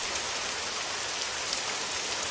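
Gentle rain falls in a steady, even hiss, a soft continuous patter of drops with no talk or other sounds over it.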